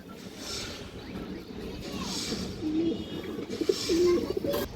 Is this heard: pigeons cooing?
yes